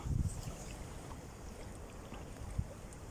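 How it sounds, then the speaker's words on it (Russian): Water of the flooded Klyazma river laps and splashes against the bank in soft irregular wavelets, with a slightly louder slap near the end and wind rushing across the microphone throughout. "Я сейчас выткну ресивер, чтобы было слышно, как о берег все бьется."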